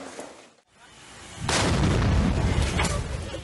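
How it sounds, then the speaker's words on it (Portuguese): A car bomb explodes at a shopping centre in Pattani, southern Thailand. A deep, heavy boom breaks in after a moment of quiet and rolls on as a loud, sustained roar. "São imagens da explosão num ataque a um centro comercial na cidade tailandesa de Pattani, no sul do país."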